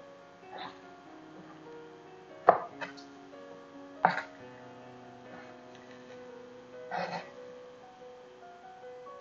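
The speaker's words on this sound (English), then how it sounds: "Basically, I'm just cutting everything in half." Bread for a bread pudding is cut into chunky pieces with a knife: three or four soft, quiet board thuds spaced a second or more apart, with faint background sound between.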